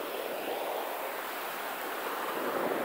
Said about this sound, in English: Pacific Ocean. Comes the water again.